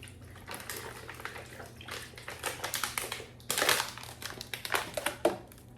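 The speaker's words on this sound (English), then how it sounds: "next we're going to be adding some water to that pan and get it boiling" Water splashes and gushes into a cooking pan of chicken in uneven bursts, with crinkly, sputtering texture and a steady low hum underneath; no one speaks.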